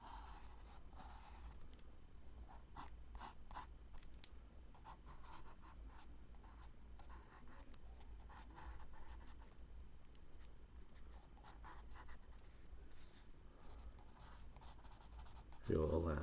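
Pen drawing on paper to ink a scary Halloween pumpkin face, faint continuous scratchy strokes close by with soft intermittent ticks, ending in a brief louder knock.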